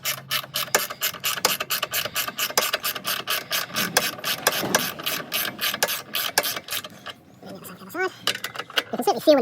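A ratchet handle turns sockets on the bolts of an RV step being installed, giving a fast, even run of loud, close ratcheting clicks for about seven seconds. It then breaks off into a few scattered rubbing and metallic handling sounds.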